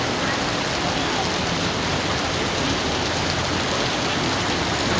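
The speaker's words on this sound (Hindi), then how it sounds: "बहुत तेज़ बारिश" Heavy rain pours steadily in Lahore, a dense, unbroken hiss of downpour close by that stays at an even, loud level throughout, with no voices.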